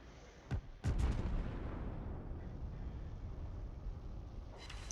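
Artillery shells fall in a World of Warships naval battle, heard as two sharp booming impacts near the start. A long rumbling decay follows, then a fainter burst at the end.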